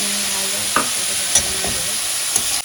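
Banana-flower chop mixture frying in a pan and being stirred, a steady sizzle with a few distinct scrapes of the spoon, close and fairly loud with no voices.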